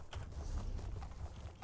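A horse gallops along a road in The Elder Scrolls Online, hooves drumming in a quick, even clip-clop rhythm, moderately close and steady over a low game ambience.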